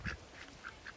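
Ducks near a duck run quack in a quick series of about four faint, nasal calls, somewhat distant, with no talking.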